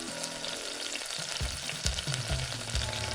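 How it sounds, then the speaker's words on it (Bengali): A sauce of cornflour, tomato sauce, soy sauce and sugar for chili chicken bubbles and sizzles loudly in a pan while a utensil stirs it, with scraping strokes over the frying and no talking. "সাথে সাথে নেড়ে চেড়ে দিন নয়তো জমাট বাড়তে পারে"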